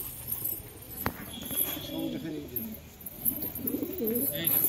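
Pigeons being kept for sale at a home coo in low, rolling bursts that rise and fall, fairly close and steady over a constant murmur of background noise.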